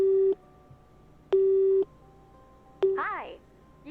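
In the Nancy Drew game Midnight in Salem, a phone call rings back as three evenly spaced tone bursts, each clear and loud. A recorded voice answers near the end.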